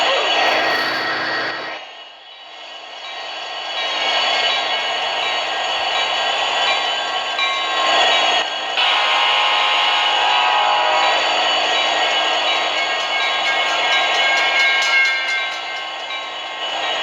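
A train rolls steadily through a Roblox rail game, a continuous loud rumbling clatter of wagons on track that holds for the whole stretch, dipping briefly near the start and again mid-way before resuming.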